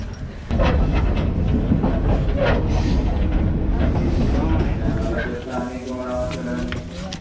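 Crowded passenger train running through Colombo, Sri Lanka, heard from inside a carriage: a steady loud rumble and clatter of wheels on rail, with many people talking throughout.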